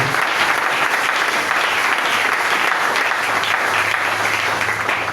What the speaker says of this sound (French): On peut acclamer pour la gloire du Seigneur.